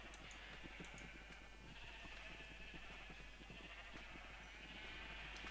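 Minecraft sheep bleat faintly on a farm, brief animal calls set against a steady low background hum, with no voices.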